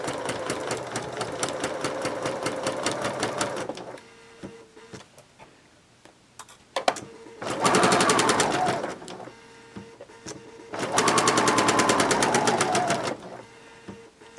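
A sewing machine stitches a skirt seam in three bursts of rapid, even whirring, separated by quiet pauses with small clicks as the presser foot is lowered and the fabric pivoted.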